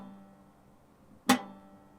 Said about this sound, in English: I'm getting just a dead string.